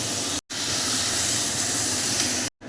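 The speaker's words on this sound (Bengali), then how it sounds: "মশলাটা ভাজা হয়ে গেছে, জল দিয়ে দেবো আমি।" Water poured into a pan of frying ginger, cumin and coriander spice paste for a katla fish curry sets off a loud, steady steam hiss, cut by two brief pauses.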